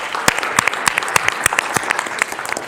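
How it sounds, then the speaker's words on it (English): An audience at a business seminar gives a round of applause, dense steady clapping from many hands filling the room, loud and continuous with sharper individual claps standing out, no voices on top. "Give yourselves a round of applause."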